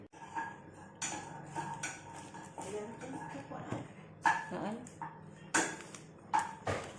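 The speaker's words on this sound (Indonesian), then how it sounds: "Kita sangrai ini dulu kemirinya." Candlenuts dry-roasting in a pan for Indonesian peyek, with repeated metallic clinks and scrapes of a utensil against the pan, close and irregular, while a person talks over them.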